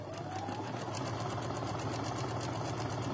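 A sewing machine runs steadily up close, stitching a quilt top seam with a fast, even mechanical whir and rapid needle rhythm and no pauses.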